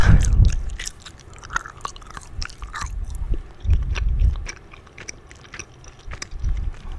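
Gum being chewed close to the microphone in soft wet smacks and clicks, slow and irregular, with a few louder low squishes between quieter stretches and no talking.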